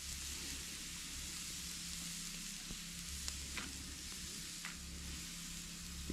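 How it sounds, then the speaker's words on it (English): Tomahawk steak searing on a grill at a deer-camp shack, a steady close hiss and crackle of sizzling fat that runs the whole time with a few sharp pops, no talking. "So first thing we wanna do is get a good sear on the outside."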